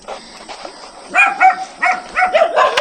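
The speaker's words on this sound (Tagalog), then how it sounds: "May aso." A dog barks in short repeated bursts, several sharp barks in quick succession, moderately near, over faint outdoor background near a well.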